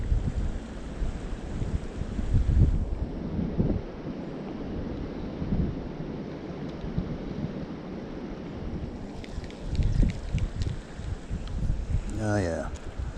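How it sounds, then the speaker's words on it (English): Wind gusts beside a creek on a December day and buffets the microphone in a steady rushing roar. The roar rises and falls, with a brief faint voice toward the end. "Getting windy."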